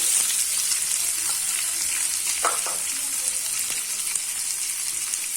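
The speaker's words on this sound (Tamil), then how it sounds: "இந்த வெங்காயம் கொஞ்சம் நல்லா வதங்கட்டும்" Finely chopped onion fries with cumin in oil in a pan, giving a continuous close hiss and sizzle with occasional soft scrapes of stirring.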